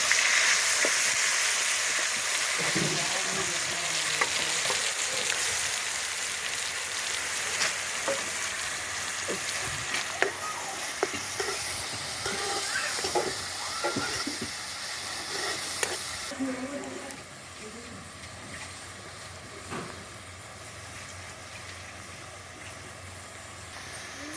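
Chillies and onion paste frying in hot oil on a stove for a small Godavari river fish curry, a steady close sizzle with scattered stirring scrapes and pops, easing to a quieter hiss in the last few seconds.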